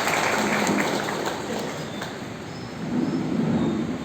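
Audience applause at a senior citizens council gathering in Bhatar, Surat, a broad steady wash of clapping from a hall crowd that dips briefly midway and swells again, with no voices over it.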